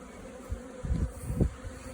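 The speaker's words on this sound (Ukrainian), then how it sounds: "Ось так бджола облітується." Honey bees buzz around small nucleus hives in an apiary, a steady insect drone with individual bees swelling louder as they fly past, no talking.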